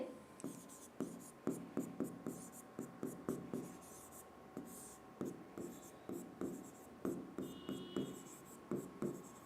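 Chalk taps and scratches across a board in a steady rhythm of short strokes during a human biology lesson on amoebiasis, ascariasis, filariasis and ringworm, close and fairly quiet, with faint speech in between.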